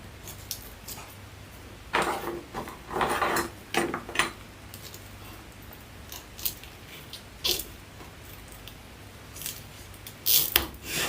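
Scissors trim a zip tie on a handmade ruffled Christmas tree wreath, giving several close, crisp snips and clicks scattered across a quiet indoor room, with light handling noise between cuts.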